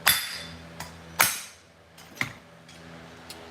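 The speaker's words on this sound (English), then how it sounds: "To get the flywheel off, you're gonna take a punch and a hammer." Several sharp metallic taps of a hammer striking a punch to remove the flywheel of a Stihl FS 91 string trimmer engine, spaced unevenly, each ringing briefly before fading; quiet otherwise.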